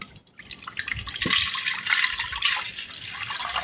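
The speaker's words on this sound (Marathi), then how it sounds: "तर मी आता हे पाणी काढून घेते" Dirty soaking water from wheat splashes and pours out in a continuous gurgling stream, close by, with a brief clunk near the start.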